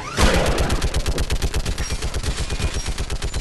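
Rapid, steady automatic turret fire in Mass Effect 3, loud and continuous with an even pounding rhythm from start to finish.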